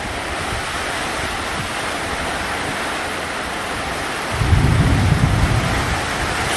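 Steady rain pours down during a midday storm over rice paddies being readied for transplanting, a dense broadband hiss that swells louder with a heavier low rumble partway through.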